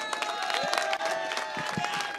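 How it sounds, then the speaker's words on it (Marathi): Applause in a cricket match commentary box: a short burst of brisk clapping, close and busy, with voices overlapping underneath. "आणि या समालोचन कक्षामध्ये जोरदार टाळ्या होतात कुंडेवाड संघासाठी."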